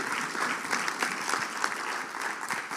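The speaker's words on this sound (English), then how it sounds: "Round of applause again." Steady applause from a panel audience at a business networking event, dense and continuous clapping filling the room throughout with no talk over it.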